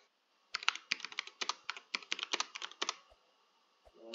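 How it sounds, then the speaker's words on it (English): Rapid keystrokes on a computer keyboard during a platform game, including spacebar presses, come in a dense burst of clicks for about two and a half seconds, then stop, leaving a couple of faint isolated taps. "My spacebar doesn't work sometimes."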